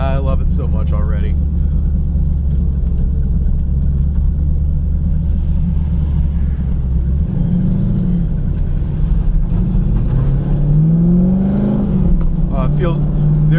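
A car with a big camshaft accelerates through the gears, a loud, close, continuous rumble that shifts pitch midway and climbs again, as a driver talks over it.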